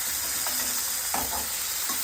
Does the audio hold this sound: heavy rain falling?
no